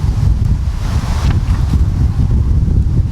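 Strong gusty wind buffets the microphone, a loud rushing roar with rising and falling bursts throughout.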